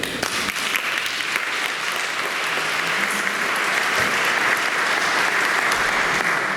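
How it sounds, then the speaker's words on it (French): A church congregation at a Catholic Mass applauds, a dense, sustained wash of clapping from many hands that holds steady throughout with no talk. "Vous pouvez applaudir."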